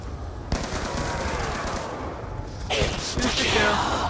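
Rapid automatic gunfire rattles continuously in the Black Ops 2 Nuketown Zombies video game, loud and dense with heavier bursts near the end, while players talk over it.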